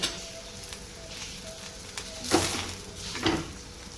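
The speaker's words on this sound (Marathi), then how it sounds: "मस्त असा पराठा टाकून घेतलाय." A paratha frying in oil or ghee in a home kitchen pan, a faint steady sizzle broken by a couple of louder scraping, turning sounds near the end.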